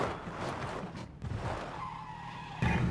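A motorcycle skids in a video game with a gritty tire scrape and engine rumble, a sustained slide that fades briefly before a louder burst of noise kicks in near the end.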